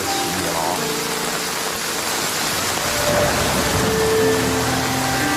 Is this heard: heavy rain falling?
yes